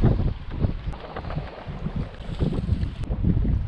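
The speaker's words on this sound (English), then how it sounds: "Man, this wind's crazy." Strong wind buffets the microphone on an outdoor fishing spot, a loud, uneven low rumble with gusty swells and no speech.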